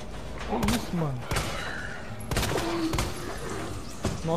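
Pistol shots fired in the Resident Evil 2 remake, several sharp cracks spaced in uneven clusters with thuds between them, while someone talks throughout.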